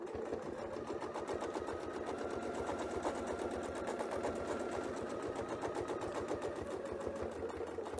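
Longarm quilting sewing machine stitching a quilt, a steady fast run of needle strokes that carries on evenly through the whole stretch at close range, with no talk over it.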